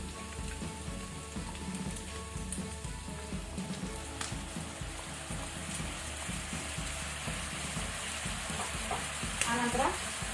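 Chicken cooked with soy sauce sizzles steadily in a pan over a medium flame, with a dense crackling hiss and the clatter of stirring, close by and without voices.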